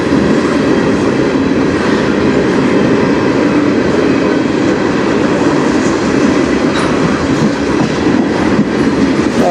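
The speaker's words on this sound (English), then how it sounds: "This is the first train." A CN freight train passes on the Strathroy Subdivision with a loud, steady roar of railcars and a rhythmic clickety-clack of wheels. A few faint squeals come through, and the sound stays strong for the whole stretch, with no talking.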